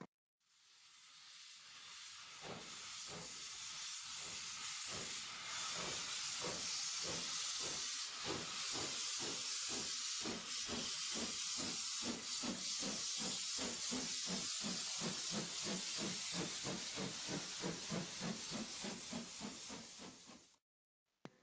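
A steam locomotive hisses loudly and continuously, with rhythmic chuffing pulses that quicken over about twenty seconds, then cuts off abruptly.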